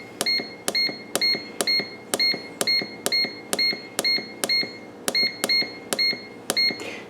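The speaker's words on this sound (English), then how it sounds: "we're going to program the turbo air fryer" Button beeps from a Gowise turbo air fryer being programmed ring out in a quick string of about thirteen sharp, evenly spaced electronic tones. They are close and clear, with a short pause partway through and no voices.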